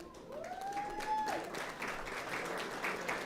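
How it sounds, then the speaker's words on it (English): A board meeting audience applauds students as they enter the room. The clapping is moderate and steady and carries on through the whole stretch, with a brief whistle-like tone near the start. "a round of applause for our next group of students entering the room with some trophies"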